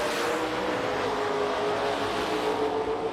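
A Limited Street drag race car launches into a wheel stand at the NMRA World Finals in Bowling Green, its engine a loud, sustained roar that holds steady through the whole stretch with no talk over it.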